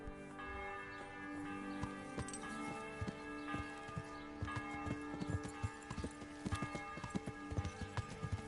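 A horse rides along in Kingdom Come Deliverance, its hooves clip-clopping in an uneven rhythm that grows busier toward the end, with bell-like ringing tones in the background, fairly faint overall.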